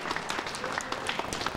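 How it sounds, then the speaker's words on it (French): A short burst of applause breaks out for a karate team captain at a karate demonstration, with many hands clapping in quick, uneven bursts from a small crowd. "j'aimerais qu'on donne une bonne main d'applaudissement pour Jim Calder, qui est le capitaine de l'é"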